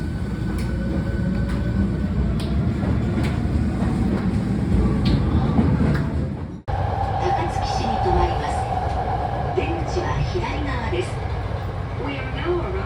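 A subway train in Japan rumbles steadily from inside the car with rail noise and faint clicks, then a brief dip and a softer rolling hum as voices speak over it.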